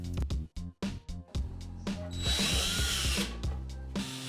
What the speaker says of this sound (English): make sure you pre-drill so you don't split the wood.